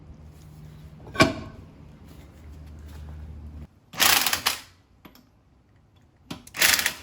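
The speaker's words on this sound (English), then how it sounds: "lug nuts tightened up just fine" Lug nuts being tightened on a Jeep Wrangler TJ rear wheel, with a sharp clack followed by two bursts of rapid ratcheting, close and fairly loud, separated by quiet pauses.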